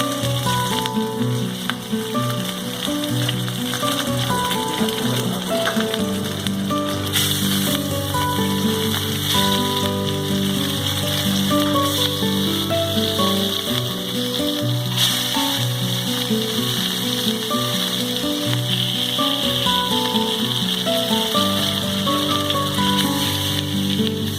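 Whole pieces of fish fry in hot oil over a low gas flame, giving a steady, close, dense sizzle and crackle that runs unbroken throughout, with no talking.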